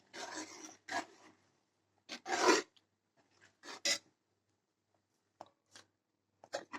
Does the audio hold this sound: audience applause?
no